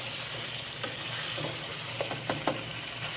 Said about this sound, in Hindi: चिकन को भी इसके साथ भून लेंगे थोड़ा